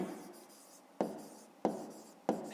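Pen writing on paper for a grade 5 maths exercise, close and quiet, with three distinct strokes or taps at regular intervals between soft scratching.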